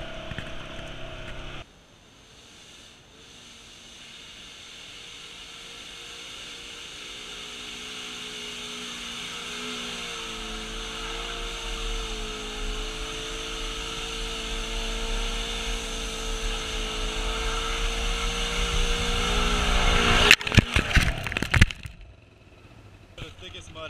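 A Polaris RZR 900 UTV with a clutch kit revs hard above 6,000 RPM while plowing through thick mud, a sustained droning roar that builds gradually before cutting off with a sudden clatter.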